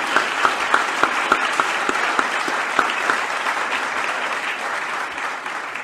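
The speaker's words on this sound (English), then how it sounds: "join me in giving a round of applause for Dr. Carla Hayden" An audience applauds at an H.L. Mencken event in Maryland, honouring Dr. Carla Hayden; steady clapping with a few sharper individual claps standing out early on, gradually thinning toward the end.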